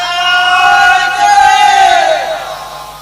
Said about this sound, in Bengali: একজন তাকবীর দাও তো দেখি।